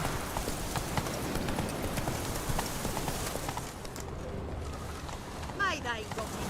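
In The Witcher 3, the horse Roach gallops with steady rhythmic hoofbeats through the whole stretch over a constant game background, with brief bird-like chirps near the end.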